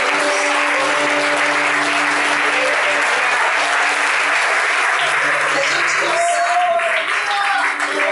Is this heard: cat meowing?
no